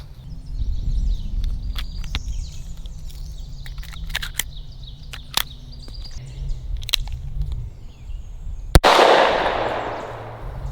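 A Smith & Wesson Governor snub-nose revolver loaded with CCI shotshells fires a single loud, sharp report near the end, after scattered light clicks and handling noises outdoors.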